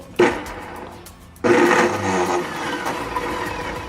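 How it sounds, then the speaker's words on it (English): A blender pulses oil and ingredients in two short bursts, a quick first pulse and then a longer grinding run that settles into a steady motor drone. "I'm gonna come over here to my blender without spilling the oil. I'm just gonna pulse it a little bit."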